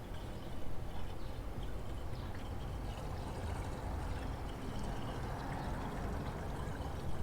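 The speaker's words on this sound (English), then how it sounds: "Then we're going to check our reservoir and fill it up as well." Liquid pours into the coolant reservoir of a 2015 HEMI truck, a continuous close gurgling and trickling flow that lasts several seconds with no talk.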